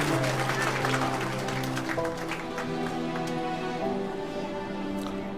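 An audience at an Al Madad Foundation gathering in Aligarh applauds to welcome a speaker, with sustained clapping blended with a steady musical drone and some crowd noise throughout.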